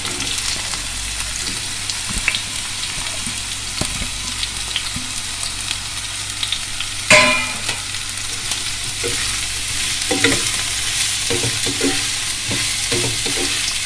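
Chicken spring rolls fry in hot oil with a steady close sizzle and crackle throughout, broken by occasional pops and a sharper burst near the middle as pieces shift in the pan.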